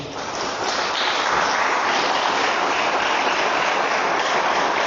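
Church congregation applauding during a sermon, a broad, continuous roar of clapping that rises slightly at the start and then stays steady and full, without a voice on top.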